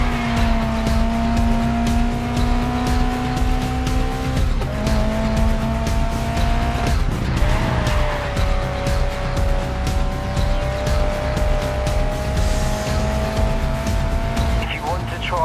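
Race car in the GRID Legends video game accelerating hard, its engine note climbing through gear changes while tires squeal and skid through corners, loud and continuous throughout, with a voice talking over it.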